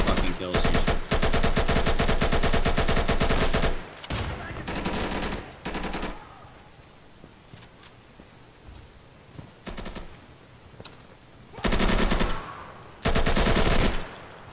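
Video-game gunfire comes in long, loud automatic bursts at the start, then falls away to quieter sounds before two more short, heavy volleys near the end.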